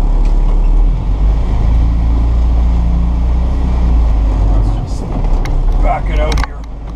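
A 1960 Land Rover 88-inch seven-passenger station wagon engine pulls away in first gear, a steady loud low rumble throughout with a brief dip near the end, while someone talks over it.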